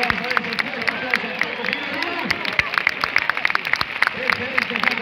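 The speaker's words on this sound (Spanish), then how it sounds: "Y ese fuerte aplauso, vamos a ver ese fuerte aplauso." Applause from a crowd at an outdoor street contest in La Vall d'Uixó, with dense, steady clapping that continues throughout and murmuring crowd noise beneath it.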